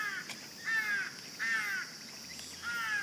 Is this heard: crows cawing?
yes